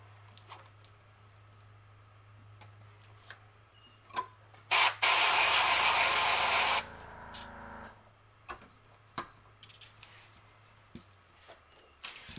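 A spray gun lays black paint onto the back of a fishing lure: a single steady hiss lasting about two seconds, close and loud, framed by faint scattered ticks and handling clicks in an otherwise quiet room.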